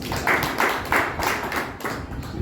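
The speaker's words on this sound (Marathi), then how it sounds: "पुन्हा टाळ्या" Applause from an audience at a journalists' association anniversary event in Maharashtra, several bursts of hand clapping rising and falling in waves across the clip, moderately loud and steady with no talking over it.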